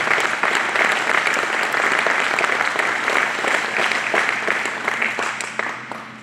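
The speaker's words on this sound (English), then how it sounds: "A round of applause for the Holden guys." Indoor showroom crowd at a Holden car display clapping for the owners, a brisk, dense burst of applause close by that holds steady and then tapers off toward the end.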